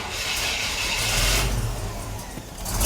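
A square body truck engine cranking over and revving, loud and close, a rough mid-pitched roar that swells and settles over a few seconds.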